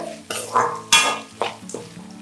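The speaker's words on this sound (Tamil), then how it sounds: "கேப்சிகம் வந்து நல்லா வதங்கிடுச்சு." Capsicum sautés in a pan for a quick variety rice, with sharp scraping stirs and metallic clinks of a spatula against the pan over a faint sizzle, close and intermittent, no speech.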